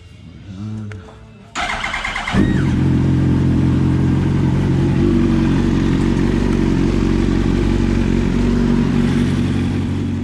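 A 2003 Yamaha YZF-R1 sport bike with a new engine and its old clutch cranks briefly with the starter, then catches and settles into a loud, close, steady idle with a rough mechanical rumble.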